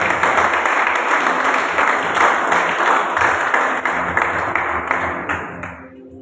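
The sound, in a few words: congregation applause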